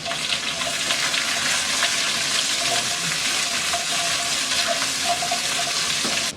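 Onions and vegetables hit a hot pan for Chinese-style cooking, giving a steady, close, loud sizzle that holds evenly for several seconds with no talking over it.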